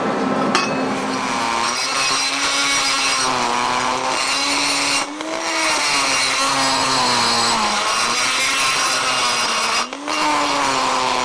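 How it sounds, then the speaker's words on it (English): An angle grinder cleans up the inside of a welded metal tube for a DIY gas turbine, a loud steady whine that wavers in pitch as it bites, with brief dips where the grinder lifts off. "A little bit clean up with the grinder inside."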